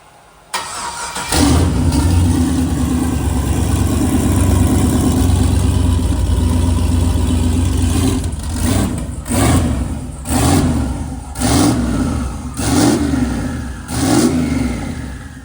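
LS-swapped Mini Cooper with a turbo setup fires up and settles into a loud, rough idle close by, then takes a series of sharp revs in quick bursts toward the end.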